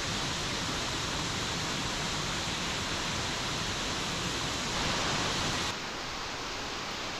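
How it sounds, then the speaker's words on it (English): A large, powerful waterfall roars as a steady, loud, broadband rush. The sound fills the whole stretch without a break, with a slight drop in level near the end. "As you can see and hear, this waterfall is larger and more powerful."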